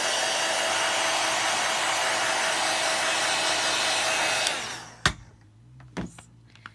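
A handheld hair dryer blows loudly and steadily for several seconds over a craft card to dry ink, then cuts off, leaving a few sharp clicks and small handling noises in a quiet room.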